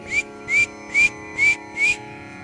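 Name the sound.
whistle signal from the rooftop, imitated by storyteller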